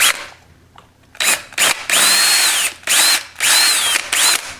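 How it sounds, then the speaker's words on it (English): A power drill whirs in several bursts of a second or so, close and loud, its pitch rising and falling as it bites into material, drilling out a hole on a Ducati ST4 motorcycle. "First I need to drill that hole out to the proper size."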